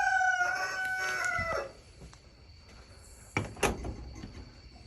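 A rooster crows loudly near a backyard chicken coop at sunset on a Tennessee farm, then soft clucks follow and a coop door slides and clatters in two brief bursts.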